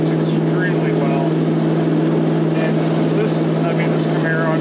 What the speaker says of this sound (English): it makes a phenomenal big block sound